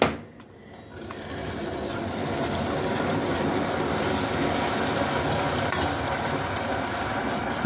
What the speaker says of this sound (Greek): Δουλεύουμε με το σύρμα.